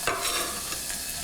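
Chopped onion dropped into hot neutral oil in a pan, giving a bright, continuous hiss and crackle, close and steady with no voices.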